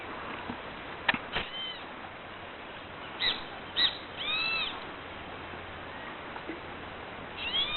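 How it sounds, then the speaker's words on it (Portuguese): A bird calling near a fishing spot, heard as a few short, faint chirps and whistles spread apart over a quiet outdoor background. "passarinho que canta nesse horário"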